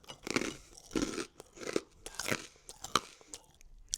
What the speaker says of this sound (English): Now let's try my homemade garlic toast.